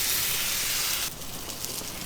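A ribeye steak sizzling on a Blackstone griddle, a bright hiss that drops suddenly halfway through to a quieter crackle, heard close with no talk.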